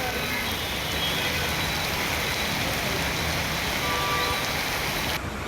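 Heavy rain pours across Pune city streets, a dense steady hiss filling the whole stretch, with faint traffic rumble beneath and the roar cutting off abruptly near the end.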